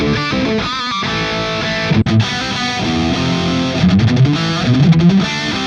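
Electric guitar played through a JEL Jose 2 amp model into an HS1960BV cabinet, loud and heavily distorted, with chugging chords and a brief cut before a sustained, ringing riff.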